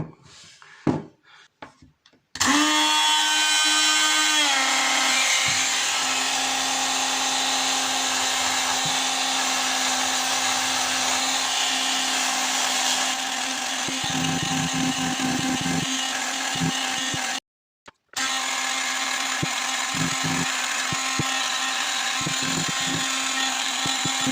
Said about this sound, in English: I'm just going to use a light sander on this. It's a little sanding stone.